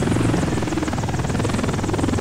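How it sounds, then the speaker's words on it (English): A helicopter in the video game Desert Combat flies steadily, its dense rotor buzz loud and continuous throughout with no talk over it. "it's hard to friggin' turn this helicopter from side to side."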